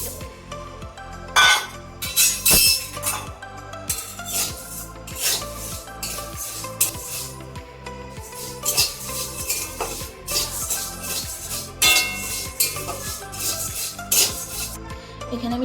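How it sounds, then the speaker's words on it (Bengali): Flattened rice (chira) being stirred and dry-fried in a pan for chira moa, with repeated scraping, rattling and metallic clinks of a utensil against the pan, irregular and close, no talk. "তার আগে আমি ভাজা চিড়াটাকে আরেকটু ভেজে নিচ্ছি।"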